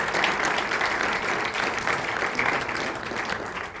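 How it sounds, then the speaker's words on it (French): Audience applause for finalists in the reissue category at a game book awards event; loud, dense clapping from a crowd, continuous for several seconds before tapering slightly. "Vous pouvez les applaudir."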